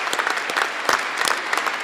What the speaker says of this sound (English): I think we can applaud that.